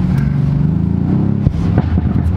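A Mercedes-AMG C63 S accelerates hard on kickdown, its loud engine and exhaust rising in a dense, continuous roar from inside the car, with no talking.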